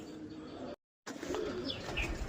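Female racing pigeons at a pigeon tournament in Kolkata coo softly with a few faint chirps against low background hiss, broken by a brief silent gap.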